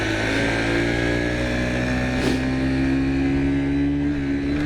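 A 1997 Honda Chaly 50 motorbike engine labors steadily while riding uphill, a loud, constant droning hum with a strained tone and a faint swell midway, heard up close.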